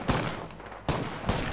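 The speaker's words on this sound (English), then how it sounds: "I hear shooting, but unfortunately I can't do much." Video game gunfire: three loud, sharp shot blasts spaced unevenly over a second and a half, each with a short rumbling tail, with no voices.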